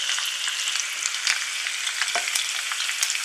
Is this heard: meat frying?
yes